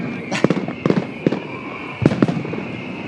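Fireworks bursting at a Derry Halloween parade: several sharp cracks and bangs in irregular bursts, some doubled, over a steady whistling tone and background crowd noise.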